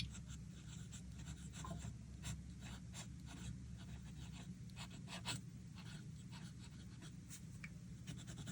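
A fountain pen with a fine nib scratches softly across paper in short strokes, faint and close against a steady low background hum, with no talking.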